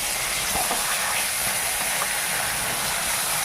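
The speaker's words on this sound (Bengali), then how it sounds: "মাছগুলো ভেজে নেব" Silver carp pieces fry in hot oil in a wok, a loud, dense, unbroken hiss and crackle held close for several seconds.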